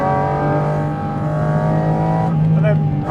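Porsche GT4 RS engine pulling hard and loud up close, then a quick upshift through the sequential shifter as the pitch drops and the revs climb again.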